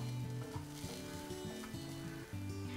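Slit green chilli sizzles with sautéed garlic in a hot pan, a soft steady crackle running alongside tonal game-like background music throughout.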